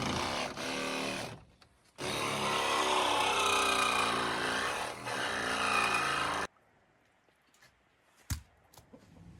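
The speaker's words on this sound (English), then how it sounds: "Sawzall saves the day. His blade is really dull." A Sawzall reciprocating saw with a dull blade cuts wood in two loud, close bursts of buzzing, grinding strokes, followed by quieter handling knocks after it stops.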